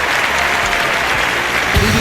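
A dense, loud crowd roars with applause for an archery gold medal in a London 2012 Olympic video game, sustained and even from start to finish.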